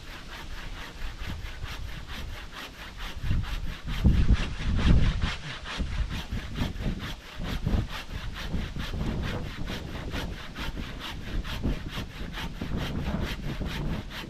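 A hand saw cuts through wood during a chair seat repair, giving steady, close back-and-forth strokes with a rasping texture that keep going without a break.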